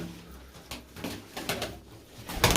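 Old-bloodline pigeons, some with damaged foot feathering, cooing close by in a loft, soft repeated low coos with bursts of wing or body rustling.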